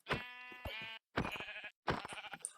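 Three sheep bleats in Minecraft, a video game, each clear, close and wavering, separated by short silences.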